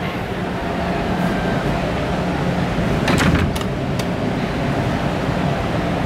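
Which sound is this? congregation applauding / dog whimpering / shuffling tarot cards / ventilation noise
ventilation noise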